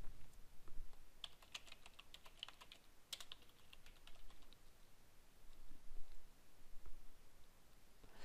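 Quiet, steady typing on a computer keyboard, scattered key clicks tapping irregularly at close range with no voices.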